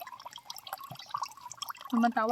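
Water trickles slowly from a tap into a large bucket at a mountain province home, a faint irregular dribbling that builds toward the end, while a person talks over it.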